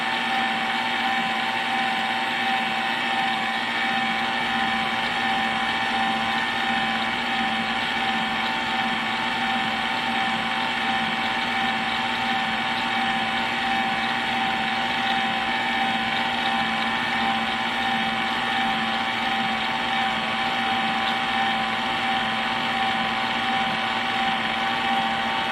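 An electric mixer beating maple pound cake batter on speed 4 whirs in a steady, continuous, loud motor drone, unbroken for the whole stretch with no talking.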